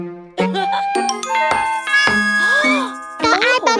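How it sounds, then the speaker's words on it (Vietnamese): A doorbell in a Vietnamese children's song rings with bright, bell-like ding-dong chimes, several separate rings in quick succession over a musical background, near and clear. "Có ai bấm chuông kìa mẹ ơi."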